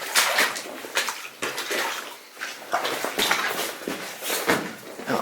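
Footsteps squelching and splashing through slippery mud and standing water inside an abandoned Nevada mine, a steady series of close, wet sloshing steps echoing slightly in the underground passage.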